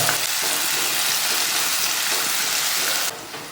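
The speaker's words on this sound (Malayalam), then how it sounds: "ഒരു സവാള കുനുകുനാന്ന് അരിഞ്ഞെടുത്തത് ചെറുതാക്കി അരിഞ്ഞെടുത്താട്ടോ അതിലേക്ക് ഇട്ട് കൊടുക്കാം" Chopped onion frying in hot oil with dried red chillies over a medium flame, a steady, close, loud sizzle with stirring that carries on throughout and drops off slightly near the end.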